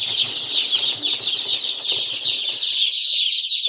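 A crowd of 8-day-old Andijan black chicks peeps continuously, producing a dense, high chorus of overlapping chirps nearby that thins out toward the end.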